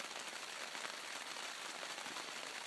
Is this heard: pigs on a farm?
no